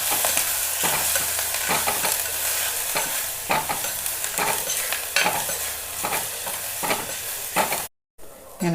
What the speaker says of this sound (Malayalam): ഇങ്ങനെ നമ്മൾ പച്ചമുളകും ഉള്ളിയും മുരിങ്ങയിലയും ഒക്കെ നല്ല വഴന്ന് വന്നു